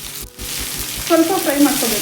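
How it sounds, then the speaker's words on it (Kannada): Chopped onion hitting a hot pan and frying, a loud close sizzle that swells and crackles over a couple of seconds. "ಇವಾಗ ಈರುಳ್ಳಿ ಹಾಕೋತಾ ಇದ್ದೀನಿ. ಸ್ವಲ್ಪ ಫ್ರೈ ಮಾಡ್ಕೋಬೇಕು."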